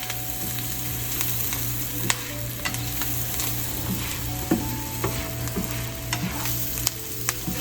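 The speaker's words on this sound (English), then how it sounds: "then we'll throw our meat in." Meat sizzling in a pan with caramelized onions for steak and potatoes, a steady loud frying hiss with occasional scrapes and clicks of stirring throughout, no voices.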